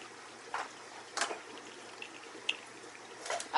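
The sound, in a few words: water siphoning through hose from turtle tank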